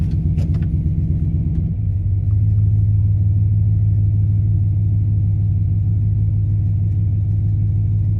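A Chevrolet Impala with a large oil leak idles while warming up, its engine giving a loud, steady low rumble close by after a brief rougher stretch at the start, with no talking.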